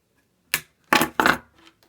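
Snips of wire cutters trimming excess wire in an ES-335 guitar wiring harness: one sharp click, then two louder snips in quick succession, close and isolated, with a faint rustle after.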